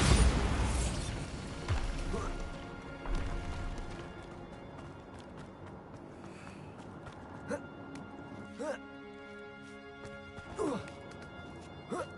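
In Hogwarts Legacy, a Bombarda spell goes off as a loud crashing blast at the start, followed by rumbling debris and scattered smaller impacts under game music and ambience.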